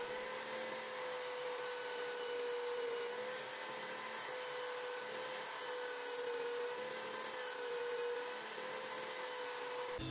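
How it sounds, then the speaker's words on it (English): A belt sander grinds steadily against a homemade aluminum casting, a continuous high-pitched whine with a strong tonal hum that holds even for the whole stretch with no breaks. "then I got smart and decided to use my belt sander"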